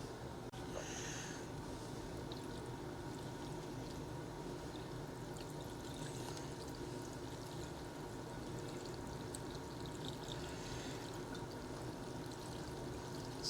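Hydrogen peroxide stronger than 3% is poured onto a deer skull for whitening, giving a continuous soft splashing trickle that runs steadily throughout without talk.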